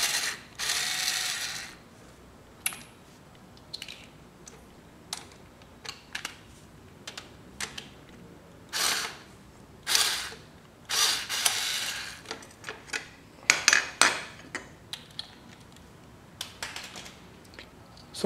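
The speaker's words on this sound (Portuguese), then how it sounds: "Aí agora é soltar os dois 14 aqui de baixo." A ratchet loosens two 14 mm nuts on a Yamaha XV 250 Virago motorcycle during removal of the engine guard with forward pegs, close, rapid pawl clicking in repeated bursts with short pauses between strokes.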